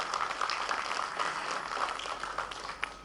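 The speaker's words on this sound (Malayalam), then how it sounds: "can we congratulate ourselves with a big round of applause?" A crowd claps together at a film success-meet celebration, a dense and steady applause lasting the full few seconds with no voices over it.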